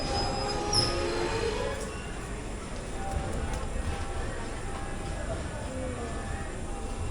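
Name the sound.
passenger train at Palakkad Junction station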